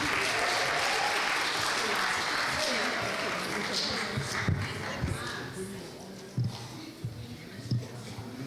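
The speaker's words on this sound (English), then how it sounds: "y'all give our panelists a round of applause this morning" Audience applause for panelists at a Friday morning youth vocal ministry camp panel, a steady wash of many hands clapping that slowly thins out, with a few louder thumps and low murmurs near the end.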